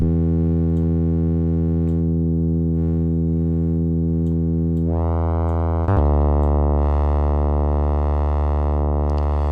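A steady phase distortion synthesizer tone from Bitwig's Phase-4, rich in harmonics, its timbre shifting partway through as the waveform changes, then holding bright and buzzy.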